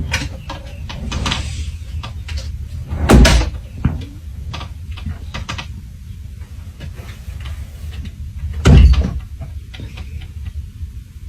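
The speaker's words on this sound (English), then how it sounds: "the cat had been pushing the drawers open and closed" A cat pushes drawers open and shut, giving two loud wooden bangs a few seconds apart amid scattered lighter knocks and clicks over a low background hum.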